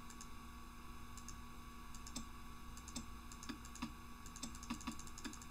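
Scattered mouse clicks in a Nancy Drew video game, about a dozen quiet, sharp clicks spaced irregularly over a steady background hum, with no talking.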